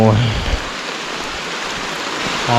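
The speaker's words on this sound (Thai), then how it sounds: "ตอนนี้ครับฝนตก โอ้โห" Rain falls on a forest hiking trail, a dense, steady hiss of drops close around, with brief bits of talk at the start and end.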